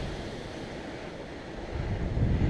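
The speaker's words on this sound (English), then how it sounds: "it's a windy day today, and the wind is right behind us" Steady wind roars and buffets the microphone, with a low rumbling gust building louder near the end; no voices.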